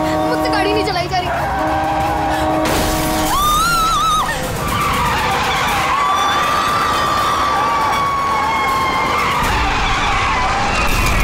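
A car's tyres screech in a long squealing skid while it is being driven, rising and wavering over engine noise, with shouting voices mixed in.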